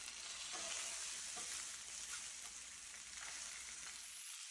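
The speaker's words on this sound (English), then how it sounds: "we're going to take our stuffed tenderloin and we're going to go ahead and just sear this on all sides just to get it brown" A stuffed pork tenderloin sears in a hot pan with a steady, faint sizzle and hiss, and the odd soft crackle or shift underneath. No one speaks.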